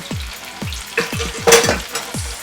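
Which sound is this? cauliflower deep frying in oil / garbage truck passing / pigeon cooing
cauliflower deep frying in oil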